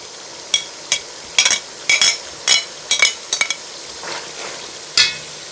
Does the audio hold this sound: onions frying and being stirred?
yes